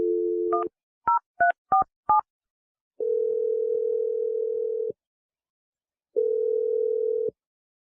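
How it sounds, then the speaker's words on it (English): A telephone number is dialed on a radio show's call line: a steady dial tone, then a quick run of six touch-tone keypad beeps, followed by two long ringback tones, loud and alone with no voices. "I'm going to dial his number right now."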